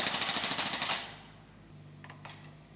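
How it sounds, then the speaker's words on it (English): A concrete breaker pounds rapidly and loudly as it breaks up concrete for a new footpath, its hammering stopping after about a second and leaving faint clinks and a low machine hum. "They're breaking up the concrete so the workmen can build a new footpath."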